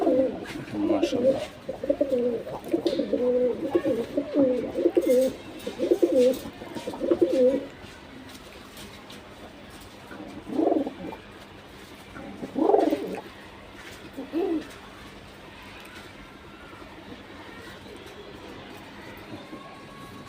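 Several pigeons, one male and two females, coo in bursts close by, rhythmic low calls through the first half and then sparser coos, with a voice briefly speaking.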